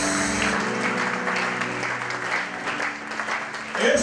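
A church congregation applauds during a worship service in a long, steady burst of clapping. A voice speaks over the applause throughout.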